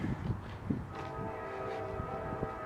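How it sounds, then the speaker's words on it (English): A low rumbling train draws closer, a steady horn-like tone rising and holding beneath scattered footsteps and faint background noise. "Look, hear that? There's a train coming."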